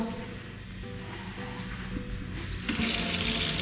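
Hot water runs steadily from a tap in a campsite kitchen near Oslo, Norway, a close, continuous splashing into the sink that grows brighter and louder toward the end.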